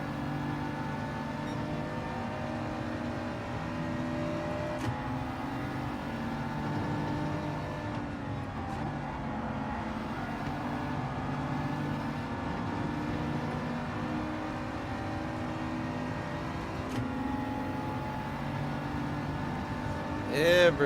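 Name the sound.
McLaren race car engines in Gran Turismo 7 video game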